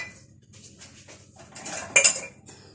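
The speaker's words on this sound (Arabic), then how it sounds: "غادي نخلط كلشي هنايا" A utensil clinks and scrapes against a dish while spices are mixed together, light taps and rattles rising to a louder clatter near the end, with no voices.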